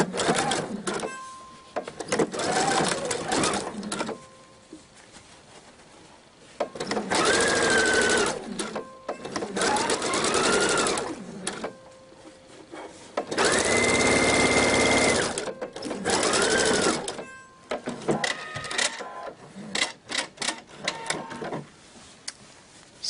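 A sewing machine stitches a belt bag seam, zigzagging over the fabric edges, in several loud bursts of rapid mechanical whirring separated by short pauses, with no talking.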